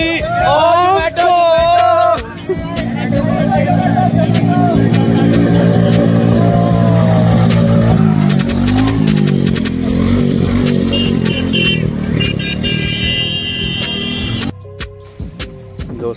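A vehicle pushes through deep floodwater in Bazpur, its mid-pitched engine droning and revving steadily and close by, while several people talk and call out over it before the sound drops away near the end.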